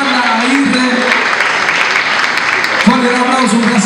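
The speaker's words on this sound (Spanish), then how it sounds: "Fuerte un aplauso" An audience at a salsa dance show gives loud, sustained applause, with an announcer's voice speaking over the clapping at the start and again near the end.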